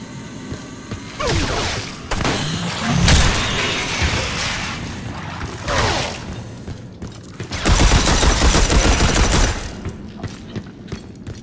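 Shotgun blasts and heavy bursts of gunfire in the Red Faction Armageddon video game, loud, dense and booming, with several sustained volleys separated by brief lulls.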